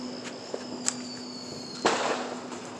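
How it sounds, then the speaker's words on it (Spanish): A few small scattered snaps, then a louder firecracker crack with a brief crackling tail, somewhat distant over a steady low hum, with no voices, during Fourth of July celebrations. "Todos están tirando cohetes,"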